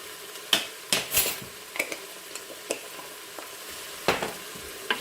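Lamb with salt, black pepper and sweet paprika sautéing in a pot for Tunisian couscous, a steady sizzle broken by repeated scraping and clinking of a utensil stirring against the pot.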